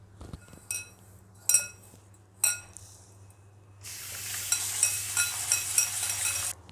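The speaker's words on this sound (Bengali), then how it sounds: "এখানে আমি চালটাকে ভালো করে 3-4 বার ধুয়ে নেব" Rice being washed in a bowl for egg pulao gives a few light clinks and taps, then a steady rush of running water with small splashes for several seconds, close and fairly quiet.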